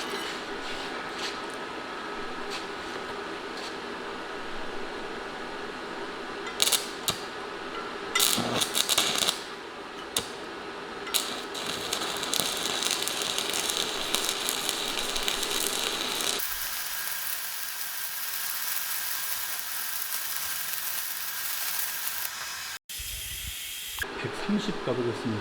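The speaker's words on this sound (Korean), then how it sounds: "용접 아주 부드럽게 잘 됩니다." Arc welding on thin square steel pipe with a stick electrode: a steady crackling hiss that runs loud and continuous, then cuts out abruptly near the end before a brief restart.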